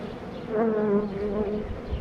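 Close, steady buzzing of bees, a droning hum that swells slightly midway with several insects audible at once.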